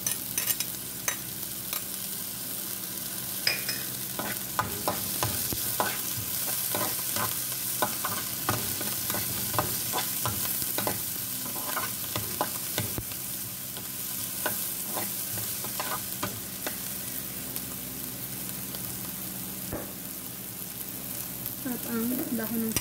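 Shrimp fritters with green onion sizzle and fry in a pan, a steady crackling hiss with frequent stirring scrapes and clinks of a utensil, close and continuous.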